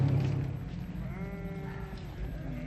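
A large mob of sheep bleats repeatedly while being moved on a farm, several overlapping calls rising and falling at close range over a steady rumble of the flock.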